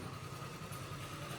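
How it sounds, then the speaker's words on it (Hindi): Delivery vehicle engine idling low and steady as it pulls up on a residential street in New Delhi, a continuous rumble with no talk. "ये गाड़ी जो आ रही है सामने से वही है"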